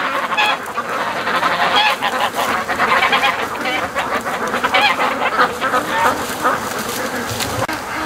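A large flock of geese honking continuously and loudly at a lake at night, overlapping calls forming a dense clamor nearby.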